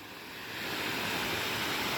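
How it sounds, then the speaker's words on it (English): Waterfall on an island preserve, a steady broadband rush of falling water heard from a moderate distance, rising slightly and then holding constant with no voices. "pretty waterfall"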